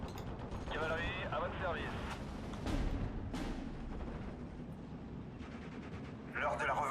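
Aircraft strafing gunfire in the World War II strategy game Steel Division: Normandy 44: a few faint, short rattling bursts heard quietly in the background, mixed with someone talking.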